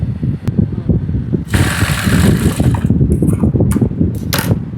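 A sewing machine runs a straight seam on a cotton bag, a close, loud rapid mechanical whirring and ticking, with short bursts of higher rattling toward the end.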